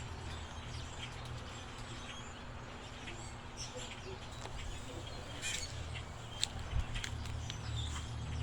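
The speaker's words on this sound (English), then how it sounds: "There's so much birds." A huge outdoor flock of roughly 2000 birds keeps up a dense, continuous chatter of calls, with a low steady rumble underneath and a few sharper chirps standing out near the end.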